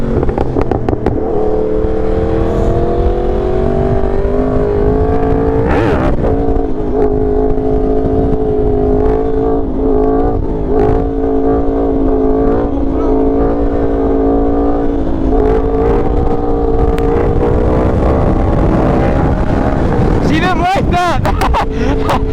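A Yamaha R1 sport motorcycle fitted with new parts rides along a road on a cool day, its engine droning close with shifting pitch, brief rises and dips, and heavy wind buffeting the microphone.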